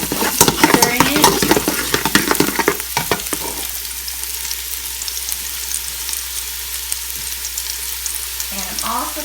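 Ginger and garlic fry in a pan with a bright, busy sizzle and quick stirring scrapes at first, then settle into a steadier frying hiss, with a brief utensil knock near the end.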